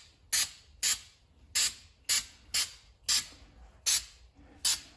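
Fluid Film undercoating sprays onto the underside of a vehicle in eight sharp, close hissing bursts, each about half a second apart, with quiet gaps between them.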